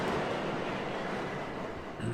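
A subway train in the video game Lost in Vivo, a steady low rumble rolling on continuously at moderate volume, with no talking.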